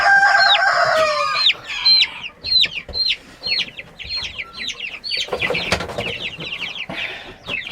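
Chickens cluck in rapid, repeated calls close by, a busy chorus of short chirping clucks with a few louder bursts, no speech heard.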